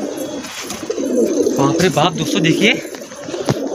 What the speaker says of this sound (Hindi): ये एक जंगली कबूतर है